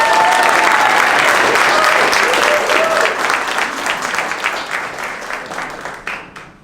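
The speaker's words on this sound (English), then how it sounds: "a round of applause for the Port of Oakland, a round of applause for BRIDGEGOOD" Audience applause at a Port of Oakland press conference, dense and steady at first, then thinning and fading toward the end with scattered claps.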